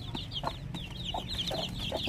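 Native chickens clucking on a Philippine farm raising Muscovy ducks, short soft clucks repeating over a steady low background hum, fairly near and moderately quiet, with no voices.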